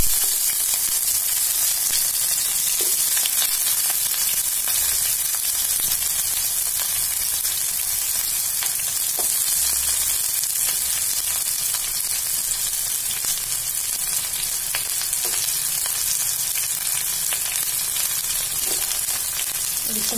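Oil sizzling and frying in a pan while cooking a mixed kundru and parwal (ivy gourd and pointed gourd) sabzi, a steady close hiss with occasional stirring scrapes throughout.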